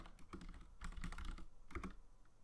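Rapid keystrokes on a computer keyboard as a Linux firewall reload command is entered, close and clear, with uneven bursts of clicks and no talking.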